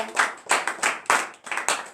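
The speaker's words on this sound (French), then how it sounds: "Donnez encore de vives acclamations à notre Seigneur." A church congregation claps and cheers during a Thursday morning prayer service in Benin, with five or six rhythmic bursts of loud, close applause that surge and fade roughly every half second.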